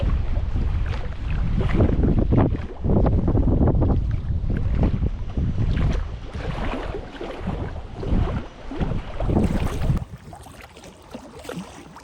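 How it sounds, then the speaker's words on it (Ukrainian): Strong spring wind blows across open water around a fishing boat out for zander, giving heavy gusting microphone rumble and hiss that rises and falls, with faint lapping water beneath. "Такий вітер задуває"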